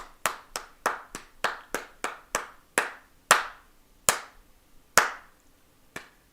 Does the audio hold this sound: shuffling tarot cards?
no